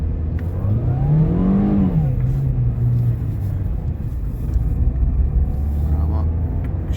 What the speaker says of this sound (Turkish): Şimdi ani bir gaz vereceğim.